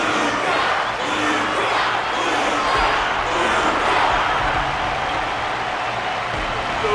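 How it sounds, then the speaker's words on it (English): A large arena crowd in Honkai Star Rail claps and cheers in steady, dense applause after a Belabogian fighter's bout, a loud continuous roar with no break throughout. "Their constant applause is a salute to this resilient Belabogian fighter."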